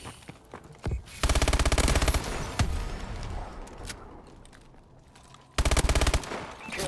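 Sustained bursts of rapid automatic gunfire in the Call of Duty video game, loud and close, with a long continuous volley followed by a short pause and another burst, plus scattered single shots and no talk.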